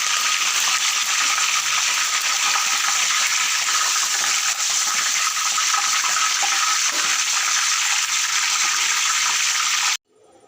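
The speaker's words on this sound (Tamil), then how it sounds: "எண்ணெய் காஞ்சதும் கருவேப்பிலைய கருவேப்பிலையை பொறிச்சு எடுக்கணும்" Curry leaves fry in hot oil for a village-style fish fry, giving a loud, steady broadband sizzle that holds without a break for about ten seconds, then cuts off abruptly.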